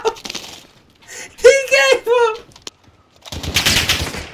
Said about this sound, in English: Oh, sorry. I'm shooting.